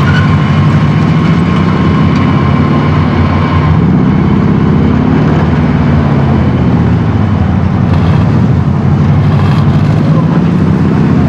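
A vehicle engine droning steadily while driving in Call of Duty: Warzone, a loud, continuous low rumble with slowly shifting pitch that fills the whole stretch without breaks.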